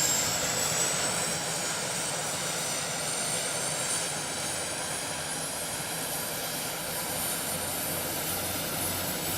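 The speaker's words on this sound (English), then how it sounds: "When starting the engines, you can immediately hear the difference. The turboprop sounds like a jet, no more buzzing of a piston engine." Turbo DC-3 turboprop engines starting up: a loud, steady jet-like roar with a thin high whine climbing slowly in pitch throughout, no voices.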